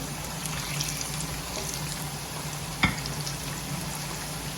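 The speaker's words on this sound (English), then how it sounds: "So I'm going to pull some of the plantains out before they start burning." Plantain slices fry in hot oil for an Ivory Coast attieke meal, giving a continuous close sizzle with a single sharp utensil clink as pieces are lifted out and turned.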